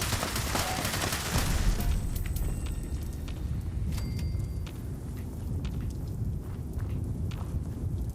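Radium Rifle gunfire in Fallout 76, a dense fusillade of rapid shots packed together at the start and then a steady rumbling clatter of game combat continuing throughout, loud with no clear talk.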